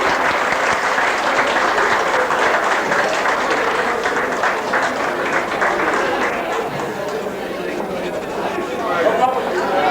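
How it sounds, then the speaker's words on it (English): Audience applause in a lounge at a glamorous granny competition in Ardara, a loud, dense round of clapping lasting throughout with crowd chatter mixed in and slowly easing toward the end. "A big round of applause, ladies and gentlemen."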